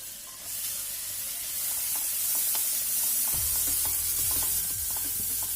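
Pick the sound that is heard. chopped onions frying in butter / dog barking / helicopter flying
chopped onions frying in butter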